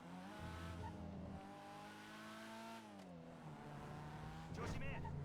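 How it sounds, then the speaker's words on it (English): Car engines in the game GTA V drone and buzz steadily with shifting pitch, a couple of vehicles idling and revving nearby, with a brief burst of louder engine noise near the end. "Just hearing the buzzing of the engines"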